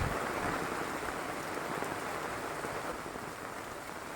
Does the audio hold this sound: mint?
no